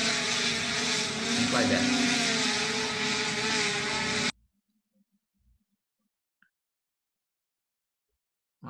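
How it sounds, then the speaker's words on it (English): A delivery drone's rotors give a loud, steady, buzzing drone for about four seconds, then it cuts off abruptly into near silence with a few faint knocks; a voice speaks briefly under the noise. "So now the drone flies."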